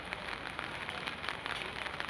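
Heavy rain pours down steadily, a dense hiss of drops drumming on surfaces close by, with no voices over it.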